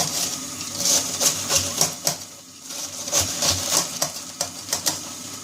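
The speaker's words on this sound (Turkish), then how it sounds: "Bu arada küçük bir lahanam var. Onu bu şekilde doğrayacağım." A knife chopping a small cabbage on a board, a steady fast series of crisp taps close by, with a brief pause midway and no talking.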